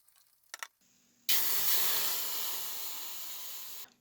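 A French ration flameless heater steams with a loud, steady hiss that starts abruptly, holds for over two seconds and fades gradually, after a few brief rustling clicks near the start.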